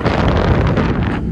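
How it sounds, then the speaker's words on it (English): Strong cold wind buffets the microphone outdoors at an autocross event on a peninsula, a loud continuous rumbling roar that lasts throughout and fades a little at the end, with no voices. "it's really windy and cold up here"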